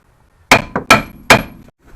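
Hammer blows knocking a stuck rear brake rotor off a 2012 Mitsubishi Lancer: four loud, sharp metallic strikes close together, ringing briefly after each hit.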